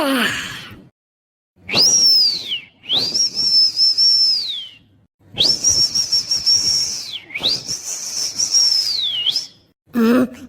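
Whistling in a Tamil cartoon scene: several long, sustained whistled notes that glide up and down in pitch, separated by short pauses, close and fairly loud.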